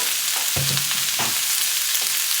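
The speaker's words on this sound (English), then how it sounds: "saute this again for 5 to 6 minutes" Vegetables sauté in a pan with a loud, close sizzle, broken by a few stirring scrapes and soft knocks of a utensil, with no voices.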